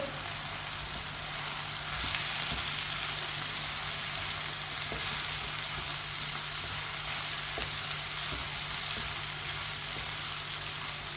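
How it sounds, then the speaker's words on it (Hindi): Finely chopped tomato, capsicum and cabbage fry in a pan for chicken macaroni, giving off a steady, even sizzle with faint stirring ticks, close and continuous with no talking. "अब इसे 2 मिनट के लिए पका लेंगे।"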